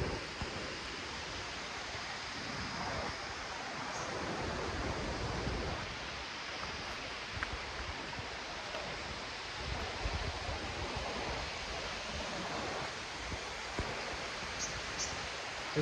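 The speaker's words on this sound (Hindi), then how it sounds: "आपको शायद कुछ आवाज़ आ रही होगी पानी की" Clear river water rushes steadily through the Uttarakhand mountains, a dense, continuous wash of flowing water that stays even and fairly close throughout, with no talking over it.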